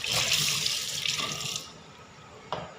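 Tap water runs steadily into a sink while blanched frogs are washed, a broad continuous gush for about a second and a half, then easing to a quieter trickle with a brief splash near the end.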